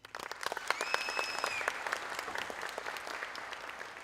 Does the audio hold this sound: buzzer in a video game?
no